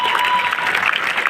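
An audience applauds at a celebration of JEE Advanced results in Bikaner, producing a brief, dense patter of clapping at steady volume with a faint tone under it.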